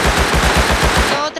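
Automatic gunfire in the video game Rust: a loud, rapid, evenly spaced stream of shots, about ten per second, running continuously before cutting off abruptly near the end, with no talking.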